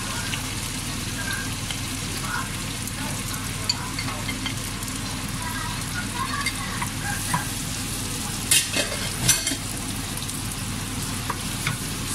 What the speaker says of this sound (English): So I'm going to fry the onions a little bit.